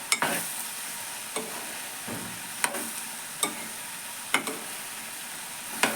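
Food being stirred and flipped in a frying pan for a breakfast dish, with a steady sizzle underneath and a series of sharp scraping turns every second or so, close and fairly loud, no voices.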